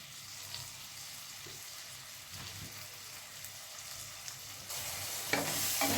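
Ivy gourd frying in a pan, a soft steady sizzle with faint stirring sounds, growing louder and brighter toward the end.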